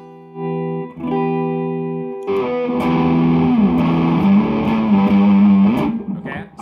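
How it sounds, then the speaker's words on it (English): Electric guitar through an amp with distortion switched off: a few clean, sustained notes ring out, then strummed chords follow with a bright, undistorted tone and some reverb. "So we're going to turn this off, and again, here's the clean."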